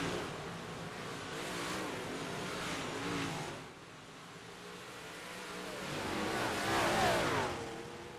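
Big block modified race cars circling Weedsport Speedway, a steady loud engine roar with rising and falling revs as cars pass, swelling again near the end.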